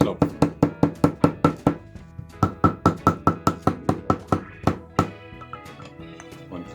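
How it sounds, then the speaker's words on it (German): A soaked bristle brush gets pounded to soften it, about two dozen sharp, close knocks in quick runs with short pauses between them, slowing to a few scattered thumps at the end. "Ich werde ihn mal ein bisschen weich klopfen."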